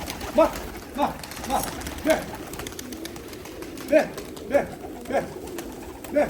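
Pavlin and Turbachi pigeons coo in a loft or aviary, giving about nine soft, rounded calls at a loose, uneven rhythm. The calls sound fairly close and moderate in level over a low, steady background murmur.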